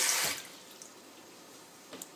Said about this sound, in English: now let's fill up the pot